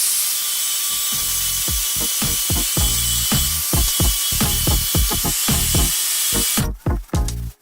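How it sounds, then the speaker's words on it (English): Angle grinder fitted with a grinding wheel scraping old glue off a floor ahead of laying 5mm vinyl planking: a loud, continuous whine with repeated rhythmic bursts of scraping and grinding as the tool is pushed, ending in a few short cut-off revs. "I'm just going to use an angle grinder with a grinding wheel and scrape them off that way."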